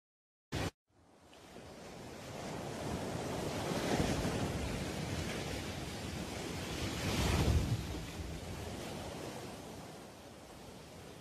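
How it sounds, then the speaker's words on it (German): Ocean surf rolls in as a steady broadband wash that swells and recedes, with a louder wave cresting near the middle and some wind noise over the microphone. A short click comes just before it starts. "Die Meere und Ozeane."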